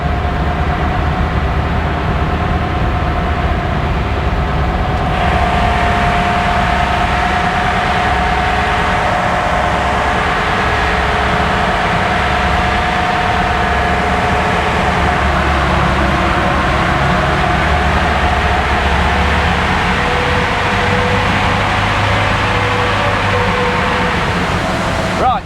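A heavy Land Rover Defender Puma 2.4 engine with a stage 3 tune runs continuously and loudly up close, a steady low drone with a faint whining tone over it.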